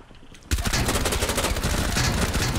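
Rapid automatic gunfire in the video game Rainbow Six Siege bursts in loudly after a brief quiet moment, continuing as a dense, sustained volley of shots to the end.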